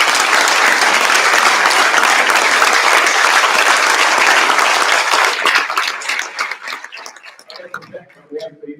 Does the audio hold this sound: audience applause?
yes